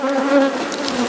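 Honeybees buzz steadily at an open hive in production, a close, dense hum with a clear pitched drone throughout the brief moment.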